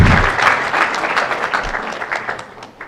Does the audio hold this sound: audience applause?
yes